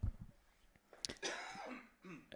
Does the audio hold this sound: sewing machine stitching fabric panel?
no